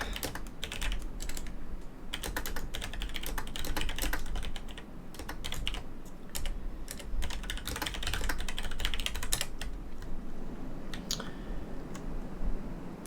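Someone types on a computer keyboard while playing a flight combat game, producing rapid, irregular bursts of close clicking keystrokes with brief pauses, continuing steadily throughout.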